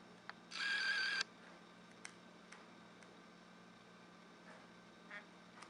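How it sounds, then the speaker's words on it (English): A Samsung Galaxy S3 smartphone gives one short buzzing vibration of about a second as it switches on, followed by a few faint clicks in a quiet room. "Heard it vibrate right there."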